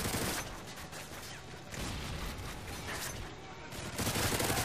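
Turret gunfire in a Chaos-mode video game match: a dense, loud, continuous barrage of rapid shots that swells slightly toward the end, with no clear pauses.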